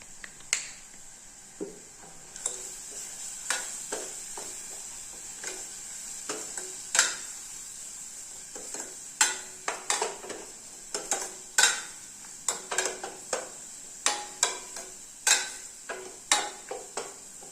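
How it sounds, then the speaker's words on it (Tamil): Spices with turmeric and asafoetida sautéing in a pan for tomato rasam, giving a steady soft sizzle broken by repeated sharp, close ticks and scrapes of stirring, alone without talk. "நல்லா வதங்கிட்டு இந்தளவு வதங்கினா போதும்"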